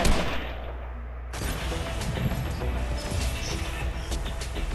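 Gunfire in the Fortnite video game during a 2v2 match, a dense, loud spray of shots and cracks after a brief quieter lull, continuing steadily to the end.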